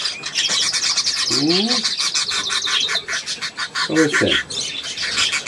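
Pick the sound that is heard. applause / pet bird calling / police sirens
pet bird calling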